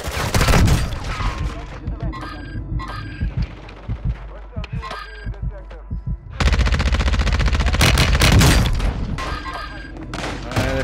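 Pistol gunfire in the video game Call of Duty, sharp shots popping in irregular bursts amid game explosions and effects, with a dense loud burst of firing in the second half and voices talking over it.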